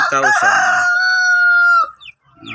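A battlecock rooster on a free-range backyard farm lets out one loud, close, drawn-out crow, with some clucking just before it and a brief quieter call afterward.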